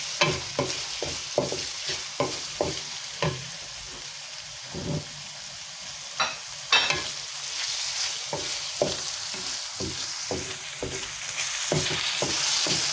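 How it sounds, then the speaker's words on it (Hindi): Garlic and ginger fry with achari spices in a pan for aloo gobi, a steady sizzle broken by repeated sharp scrapes and taps of a stirring spoon, close and moderately loud, with no talking. "लहसुन अदरक भी फ्राई हो गया"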